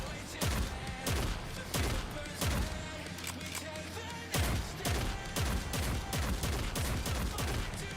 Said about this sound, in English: that fucking shotgun is badass